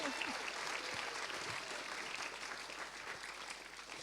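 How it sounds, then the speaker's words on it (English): Audience applause for Laura Bates at a lecture challenging the manosphere: a full hall clapping continuously, dense and even, heard at a distance and fairly quiet throughout. "Round of applause for Laura."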